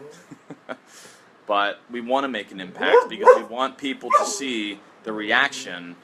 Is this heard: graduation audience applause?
no